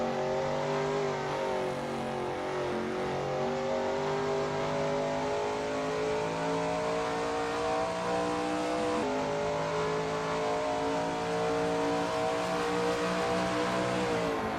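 A Shelby Mustang GT350R laps Zandvoort in a racing sim, its engine howling steadily at high revs with layered harmonic tones, a brief pitch drop on a gearshift mid-way, loud and close with no talking.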